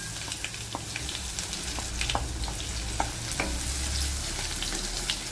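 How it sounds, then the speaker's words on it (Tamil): Crushed garlic fries over a low flame in a pan where mustard seeds have already popped, giving a steady close sizzle dotted with small crackles and the occasional clink of stirring. "கொஞ்சம் வெள்ளைப்பூடி ஃப்ரை ஆகட்டும்."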